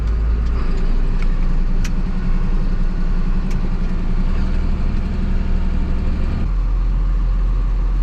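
An easy-to-operate farm tractor idles steadily up close, a continuous low rumbling engine note holding throughout with a slight shift in tone near the end.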